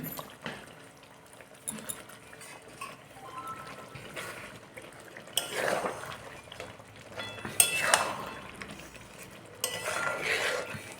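Country chicken with ground ginger paste being stirred in a pan, quiet clinks and scrapes of a utensil with soft sizzling, rising into louder stirring bursts toward the end, no talking.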